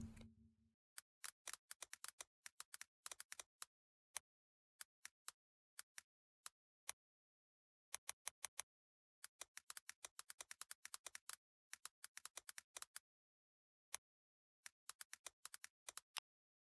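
Clicky keyboard typing in quick bursts of sharp keystrokes separated by short pauses, crisp and close with no voices.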